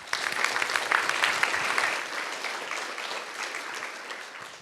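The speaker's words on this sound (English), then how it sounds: "One more round of applause." A meeting audience gives a round of applause, a close, dense burst of clapping that swells early and then thins and fades toward the end.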